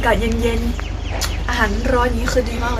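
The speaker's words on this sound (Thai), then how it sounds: "ฟังเสียงไก่ขัน" Chickens cluck and a rooster crows outdoors in the morning while someone talks over the birds throughout.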